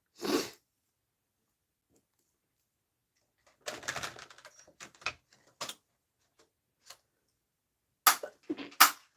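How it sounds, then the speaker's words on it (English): Several sneezes burst out in quick succession, separated by short quiet gaps, loud and close, with small sniffs and breaths between them. "You ever have a sneezing fit?"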